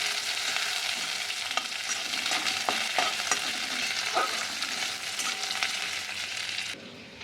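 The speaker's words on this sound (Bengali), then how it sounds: "এবার কপিটাকে ভেজে নিচ্ছি। পেঁয়াজের সাথে ভেজে নেব।" Cauliflower and onions fry and sizzle in a pan while a utensil stirs and scrapes a few times, steady and close, no voices.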